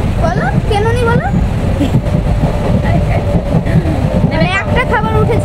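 A nearly empty passenger train runs along with a steady, loud rumble and rattle, while people chat over the constant noise of the carriage.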